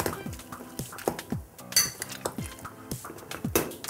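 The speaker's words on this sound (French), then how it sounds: "On va écraser nos légumes grossièrement." Cooked winter vegetables, broccoli among them, being coarsely mashed with a potato masher in a pot, giving repeated soft squelching thuds and metallic clinks against the pan in an irregular rhythm, close and moderately loud.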